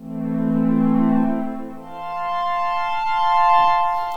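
Roland Jupiter-8 Mellow Strings patch on an Arturia synth holds a sustained chord that swells, fades, then returns brighter with hi-fi loudness EQ, smooth and moderately loud.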